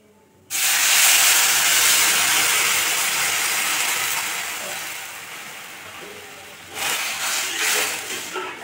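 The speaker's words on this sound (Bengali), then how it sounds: "এবার আমি দিয়ে দেব পরিমাণ অনুযায়ী জল।" Water is poured into frying moong dal in a pan and bursts into a loud, sudden hissing sizzle. The hiss slowly fades, then flares again near the end.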